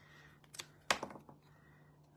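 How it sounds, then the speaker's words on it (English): Scissors snipping patterned paper for a handmade tool box card, a few close, crisp cutting clicks with one sharper snip in the middle, alone in a quiet room. "let's just cut that off with my scissors"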